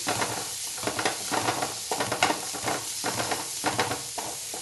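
Chopped onions frying in a pan, with a steady sizzle broken by repeated scraping stirs at an irregular rhythm, close and moderately loud, with no talking.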